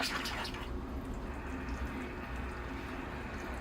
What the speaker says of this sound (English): The tree is ready to be watered. All right, here I go with the water.